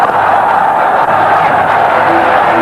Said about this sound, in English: Deafening roar there from the crowd